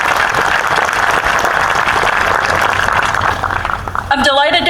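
Outdoor ceremony crowd at Mount Vernon gives a loud, sustained round of applause that fades slightly before a voice begins speaking at the end.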